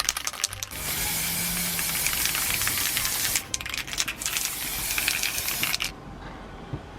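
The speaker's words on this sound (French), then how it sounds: "Je vais te bomber tout ça en argenté." A metallic silver spray can from Action spray-paints clock parts outdoors. It gives long, loud, continuous hissing bursts with a brief pause in the middle, the nozzle clicks as it starts and stops, and then the hiss cuts off.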